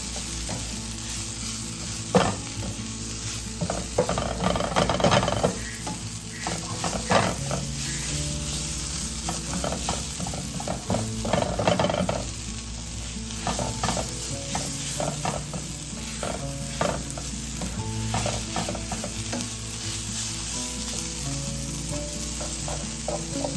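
A spinach and sausage mixture sizzles in a pan while being stirred, with continuous frying crackle and repeated scraping, clattering stirring strokes, close and fairly loud.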